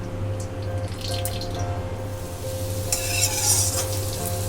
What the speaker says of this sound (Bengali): একই কড়াইয়ে আমরা এখানে সাদা তেল দিয়ে দিচ্ছি।